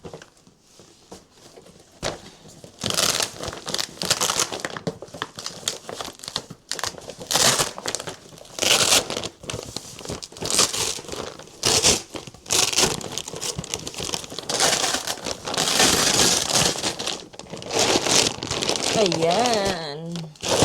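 Delivery parcel being opened and its address label peeled off, with repeated loud crinkling of plastic packaging, tearing and rustling in irregular bursts, while someone talks over it.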